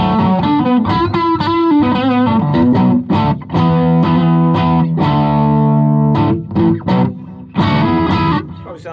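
Distorted electric guitar on a Kramer Focus VT-211S bridge pickup playing chords and riffs, loud and gritty with a bright, biting edge and short pauses between phrases.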